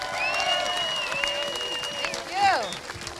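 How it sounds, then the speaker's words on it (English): Outdoor crowd at a beach volleyball court ribbon cutting applauds steadily at moderate volume, with whistles and voices mixed into the clapping. "Another round of applause, please."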